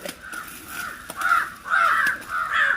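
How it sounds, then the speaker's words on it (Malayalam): A crow caws repeatedly, several harsh calls in a loose rhythm, fairly close and loud against a quiet outdoor background. "അതാ കാക്ക കരയുന്നു."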